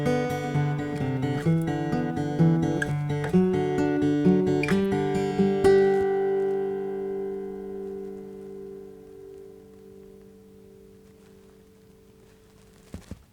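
A plucked acoustic guitar plays a quick run of single notes, then lets a final chord ring out and fade into near silence.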